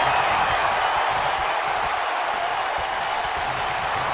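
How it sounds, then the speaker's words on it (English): A dense, steady roar from the arena crowd cheering in the WWE 2K video game, during a Randy Orton versus Tyler Breeze match in Columbus. It stays loud and unbroken throughout with no pauses. "Columbus has become known for being an extremely electric crowd, and this one is no different."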